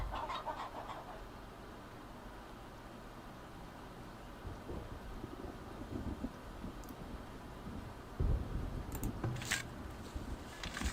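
Chickens at a coop in the village-building game Farthest Frontier give faint, scattered clucks over low ambient wind and rumble, with no voices.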